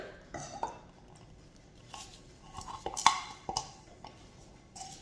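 Spoon or whisk clinking against a bowl while dough ingredients with milk and vanilla are mixed, a series of light irregular taps and scrapes, close and fairly quiet.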